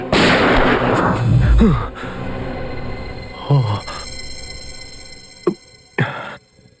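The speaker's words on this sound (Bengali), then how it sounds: "শুট অভিজিৎ, শুট, বলো।" Gunshots ring out in a TV crime drama: several sharp, loud cracks with brief echoing tails, spaced a second or more apart, alongside dramatic noise.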